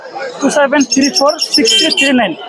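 Lovebirds at a bird market in Mirpur, Dhaka chirp in quick, high bursts, close by, with voices talking over and between the calls.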